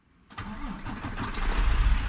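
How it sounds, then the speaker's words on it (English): A truck engine in American Truck Simulator cranking and catching after a short quiet moment, then settling into a steady mid-pitched idle that builds slightly in loudness, with no talk. "Fire the truck up,"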